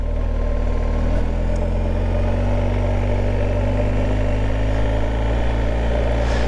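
A car with ill-suited tyres drives off-road along a dirt track through the Portuguese countryside, giving a loud, continuous engine drone and rumble of tyres on rough ground from start to finish.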